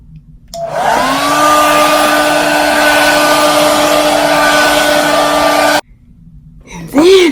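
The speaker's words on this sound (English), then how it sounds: "Take my blow dryer" A handheld blow dryer runs steadily for about five seconds while styling hair set with Got To Be spray for a braid, a loud continuous whine that cuts off abruptly, followed by a brief rising sound.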